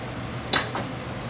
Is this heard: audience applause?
no